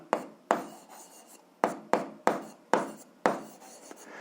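Equations for a seventh-grade algebra exercise are written by hand in quick bursts: about seven separate scratchy pen strokes, each starting sharply and then fading. They sound close and fairly quiet, with no voice over them.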